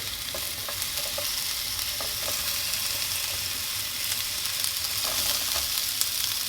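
Thick onion slices frying in a hot pan, a dense, steady, close sizzle that fills the whole stretch with faint occasional pops and no talk.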